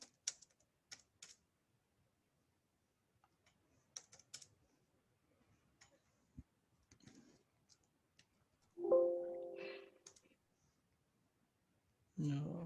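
Light, sparse keystrokes tap a computer keyboard in short clusters as a mkdir command is entered, quiet and close, with brief spoken voices breaking in near the end.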